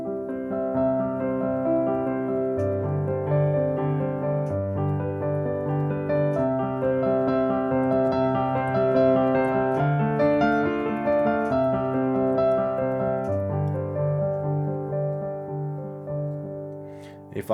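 Piano played with the sustain pedal held, notes ringing and blending into a continuous wash of overlapping chords, steady and fairly loud with no talk, fading near the end.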